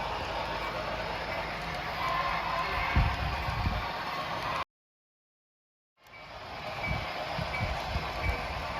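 A train rumbles steadily past with a broad, roaring noise and wheel clatter, briefly cutting to silence before the rumble resumes.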